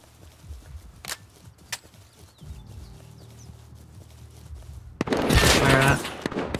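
AK rifle fire in a video game: a few isolated sharp cracks, a low hum in between, then a loud, dense volley of rapid shots near the end.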